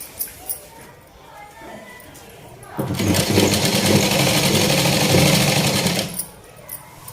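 Starting partway through, a sewing machine stitches patiala salwar fabric in a loud, rapid, steady whir for about three seconds before stopping, with quiet handling clicks before and after.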